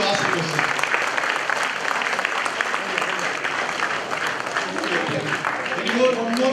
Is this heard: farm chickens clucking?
no